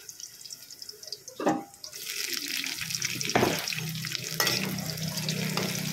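Garlic and onion fry in a pan, with a steady sizzle building after a brief splash, joined by a few stirring scrapes and clatters close by.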